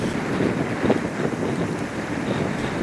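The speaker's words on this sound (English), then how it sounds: "heavy drifting snow driven by wind gusts up to 57 kilometers an hour" Blizzard wind gusts up to 57 km/h roar and buffet steadily outdoors in Central Alberta amid heavy drifting snow, loud and continuous with no voices.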